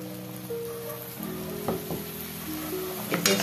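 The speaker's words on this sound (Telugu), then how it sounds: "ఇప్పుడు 2 మీడియం సైజ్ టమాటాలు ప్యూరీ యాడ్ చేసేసుకోండి." Puree of two medium tomatoes hitting sizzling masala in a pan for chicken curry, a loud continuous hiss and crackle with a few faint utensil knocks.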